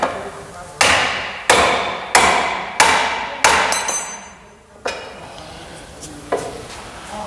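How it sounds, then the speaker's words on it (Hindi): Heavy hammer blows ring out on the suspension of a Honda City during clutch replacement work, five sharp metallic strikes in a steady rhythm followed by a couple of lighter knocks, close and loud in a workshop. "लो, बारी है चोट मारने की।"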